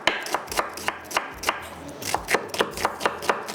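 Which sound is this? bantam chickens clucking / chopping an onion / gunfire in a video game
chopping an onion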